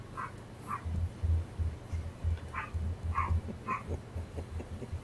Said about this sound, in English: that's my dog, Ozark.